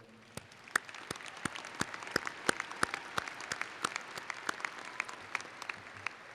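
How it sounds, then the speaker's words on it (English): Audience applause at a university commencement ceremony, a steady wash of many hands clapping with sharp individual claps standing out throughout, moderately distant and continuous with no talk over it. "I ask you to please join me in applauding all those who have helped you attain this"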